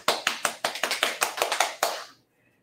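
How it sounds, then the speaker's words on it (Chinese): A small group claps in a quick, uneven rhythm of about a dozen sharp, close hand claps at a children's teaching session, then the claps stop abruptly into near silence. "为自己掌声鼓励"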